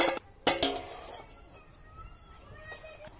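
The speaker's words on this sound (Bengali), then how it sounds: "সবকিছু আমি এবার ঢাকনা দিয়ে দেবো।" Lids set onto cooking pots, one holding fish boiled with salt and turmeric: two sharp metallic clanks close together near the start, then a low, quiet kitchen background.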